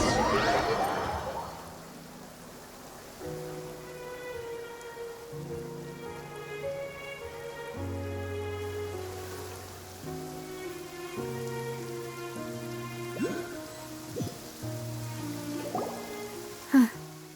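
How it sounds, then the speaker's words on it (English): Steady rain falls throughout a scene in Genshin Impact, a soft constant patter beneath sustained musical tones, with a few sharper drips near the end. "It's been raining non-stop for a few days now."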